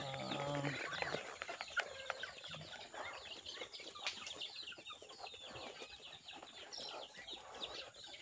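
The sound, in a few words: chickens clucking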